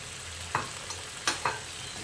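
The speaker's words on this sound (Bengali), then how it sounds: "ভাজা আলুগুলো দিয়ে মশলার সঙ্গে আরও খানিকক্ষণ কষিয়ে নিতে হবে" Fried potatoes stirred into masala for aloo dum: a soft, steady sizzle runs underneath while a few sharp spoon scrapes land near the pan.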